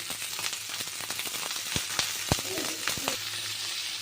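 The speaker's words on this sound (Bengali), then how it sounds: "এখন আমি পেঁয়াজ রসুনের সাথে বরবটিটাকেও ভেজে নিচ্ছি।" Yardlong beans frying with onion and garlic in a pan, an even hiss of oil beneath several sharp spatula clacks and scrapes, close and moderately loud.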